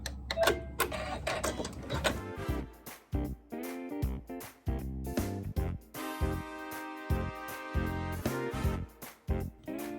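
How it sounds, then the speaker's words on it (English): Domestic sewing machine working detail stitching and a satin stitch on fabric, bursts of rapid mechanical needle clatter separated by short pauses, close and clear, with no voices. "we'll sew some detail stitching as well as the satin stitch for fabric 1"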